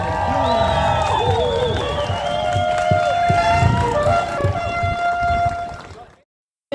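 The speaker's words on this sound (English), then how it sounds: "so give a big round of applause" A Gaza solidarity rally crowd in Otautahi cheers and applauds loudly with whoops and shouts, and a vehicle horn sounds in the mix. The noise is dense and continuous, then cuts off abruptly near the end.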